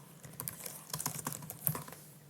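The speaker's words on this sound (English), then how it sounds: "type in your name" Fast, irregular clicking of keys on a computer keyboard, close and fairly quiet, with a name being typed and no voices.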